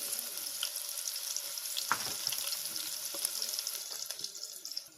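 Onions sizzling in hot oil in a cooking pot for a crab curry, a steady close crackle and hiss running throughout with small stirring knocks, no talking.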